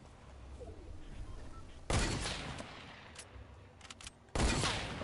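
Video-game gunfire in a solo match: two sharp, loud bursts of shots about two seconds apart, with a few fainter distant pops between them over a low rumbling background.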